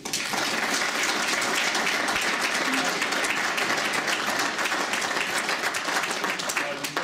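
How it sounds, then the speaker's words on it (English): A big round of steady, dense audience applause for a coach at an elite coaching education session, continuous and fairly close throughout. "Just a big round of applause for Rick."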